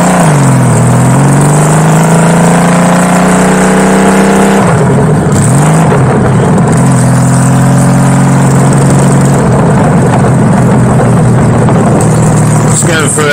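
Custom Honda Valkyrie bobber engine heard while riding through a village in England: a loud, close rev at the start that settles into a steady cruising drone, with a brief throttle blip midway.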